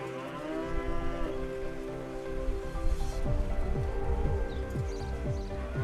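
Dairy cows and heifers on a French farm low repeatedly, several long, deep moos overlapping one another close by, with faint knocks and shuffling in the barn behind them.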